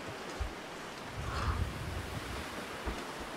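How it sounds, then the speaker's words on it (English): Wind gusting across an open, snowy wilderness in the survival game The Long Dark: a steady, airy rushing with low buffeting swells, fairly faint and with no voices over it. "Oh, it's windy."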